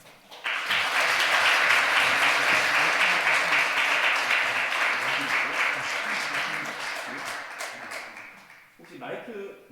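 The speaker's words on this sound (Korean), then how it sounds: "이제 우리 박수로 우리 김현아 목사님 모시도록 하겠습니다." A church congregation at a deacons' training retreat gives loud, sustained applause to welcome a pastor. The clapping rises quickly and holds for several seconds, then fades, and a voice speaks briefly at the end.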